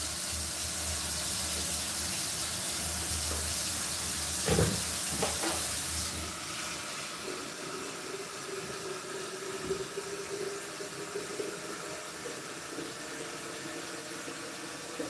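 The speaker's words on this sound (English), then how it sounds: "Just getting some more water." Water pours from a tap while a pot of beans is topped up in a home kitchen, a steady hissing flow with a couple of clunks midway, then the stream thins and softens toward the end.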